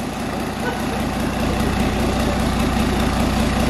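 A rebuilt Cummins QSB 5.9 380 diesel long block runs steadily on test, a continuous low rumbling drone that stays loud and even throughout with no talk over it.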